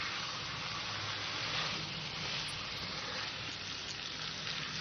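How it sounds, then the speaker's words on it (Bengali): Fried pointed gourd (potol) stir-fried in oil with spices gives a steady, faint, even sizzle that hisses on without pause and without any talking. "এবার পটলটাকে মশলার সাথে সুন্দর করে কষে নেব।"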